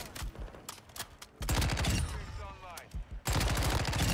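Rapid bursts of Chimera gunfire in Modern Warfare 2, loud and close, with short sharp volleys separated by brief pauses and a dense sustained burst near the end.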